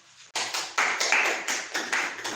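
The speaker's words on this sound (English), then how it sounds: "Clap for Tisha." A group claps together, steady rapid hand claps that swell and hold for a couple of seconds, fairly close and clear.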